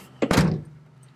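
A Mazda Miata car door swings shut with a single solid thunk, near and fairly loud, followed by a short fading rattle and then quiet.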